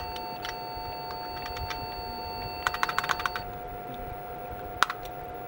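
Clicky, buckling-spring keystrokes on a cleaned and rebuilt IBM Model F keyboard, a quick burst of several presses followed by one more sharp click, all close over a steady background hum.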